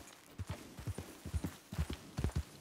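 Horse hooves clip-clop in Red Dead Redemption 2, a steady, quiet trotting rhythm of paired hoofbeats heard alone and fairly close.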